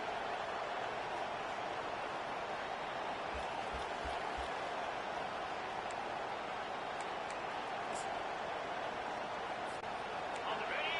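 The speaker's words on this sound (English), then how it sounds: "This crowd, full throat, splitting the eardrums and letting them know it's going to be a long day" Stadium crowd roaring in EA College Football 25, a steady, broad wall of cheering that holds at the same level throughout, far-off and diffuse, with faint scattered calls.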